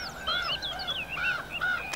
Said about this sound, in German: Eine Etage höher in der Felswand warten junge Kolkraben auf ihr Frühstück.